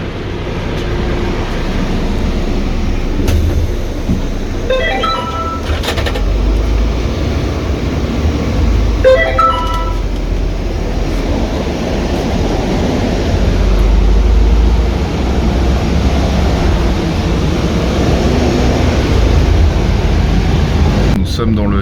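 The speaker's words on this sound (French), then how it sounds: "Nous sommes dans le taxi du retour" Inside a taxi riding back to the airport in Turkey, a steady broadband road and engine rumble runs throughout, with voices talking over it.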